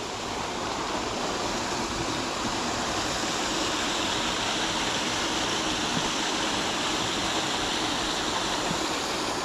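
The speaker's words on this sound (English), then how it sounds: "here's a bit waterfall where it comes underneath this little footbridge" Small waterfall on a brook spilling beneath a little footbridge in a valley near the River Wansbeck, a steady, dense rush of falling water close by, loud and continuous throughout with no voices.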